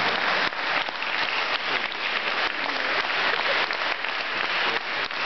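An audience at a concert in a community cultural centre applauds steadily, a dense and even clapping that goes on alone throughout with no talk over it.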